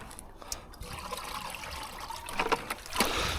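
Water scooped from a farm dam into a bucket, a close splashing and trickling with a couple of sharper sloshes near the end.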